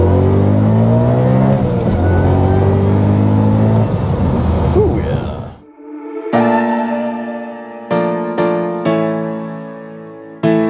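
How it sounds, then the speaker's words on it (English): A supercharged BMW E92 M3 engine, loud and close, holds a strong harmonic drone, then dips before a series of sharp throttle blips, each climbing and falling away in quick succession. "I love to match the rev."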